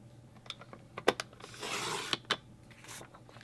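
A strip of paper is trimmed down to 8 inches on a paper trimmer at a craft session: a few sharp clicks, then a soft sliding swish of the blade across the sheet, close and fairly quiet.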